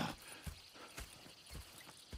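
Horses in the video game Red Dead Redemption 2 walk with slow, even clip-clop hoofbeats, roughly two steps per second, heard close and alone.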